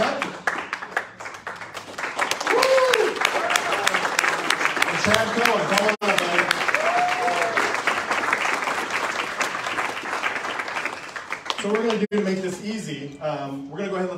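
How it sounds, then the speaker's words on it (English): Audience at a leadership panel event claps loudly and continuously for the incoming speakers, a dense sustained burst of applause with voices and a few whoops mixed in, tapering near the end. "Round of applause is okay."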